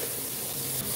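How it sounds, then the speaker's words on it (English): A close, steady hiss of a spray bottle misting cleaning solution onto a sink, one continuous burst with no voices. "I spray the sink."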